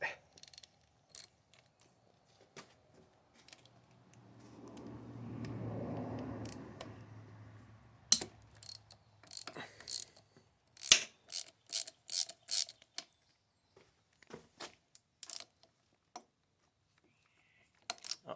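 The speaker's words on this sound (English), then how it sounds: "12mm wrench, we'll see if that works." A wrench works bolts loose on a 1999 Kawasaki KX125 power valve cover: a run of quick metallic ratchet clicks in bursts, close and crisp, after a quiet stretch with a brief low mechanical swell.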